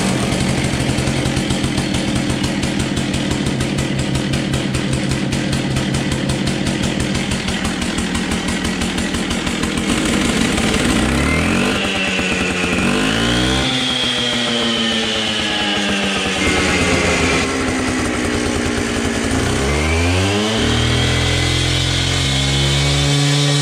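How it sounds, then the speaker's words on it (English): Gas-powered chop saw cutting into a concrete block during foundation repair of an abandoned church, a loud continuous engine drone that rises and dips in pitch as the blade bites and revs, with no talking. "I'm going to cut that off with the chop saw"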